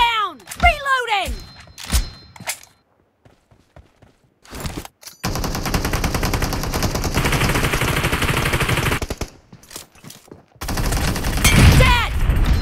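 Bursts of automatic gunfire rattle in the mobile battle game PUBG Mobile during a team deathmatch in a town, with sharp shots early, a long sustained burst in the middle and another volley near the end, separated by brief quiet.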